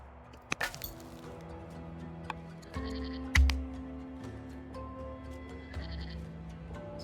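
Sheep bleat in the strategy game Old World, several calls rising over a steady layered game soundtrack and interface sounds, moderately loud against the background.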